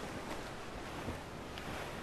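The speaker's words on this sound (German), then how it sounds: "eine große Welle." A big ocean wave surges in the pirate-ship video game Assassin's Creed IV Black Flag, a continuous loud wash of surf and wind noise lasting about two seconds, with no voices.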